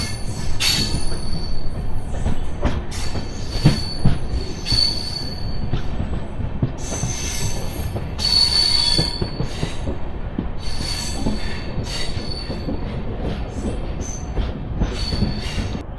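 The Charlapalli Superfast Express pulls out of Sullurupeta station with a loud, steady rail rumble, the wheels squealing again and again, and no voices.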